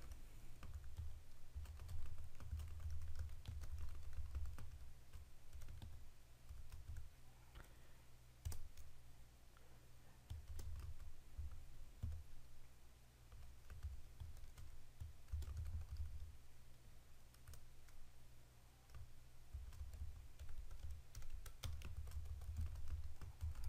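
Code is typed on a computer keyboard with steady, quiet key clicks in uneven bursts and short pauses, heard over a constant low hum with no talk.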